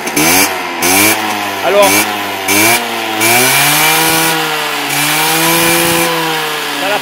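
Motobecane 103 MVX moped with a stock 14 carburettor, close and loud: its small two-stroke engine revs up and down several times in quick blips, then holds a high buzzing whine, with a brief word spoken over it.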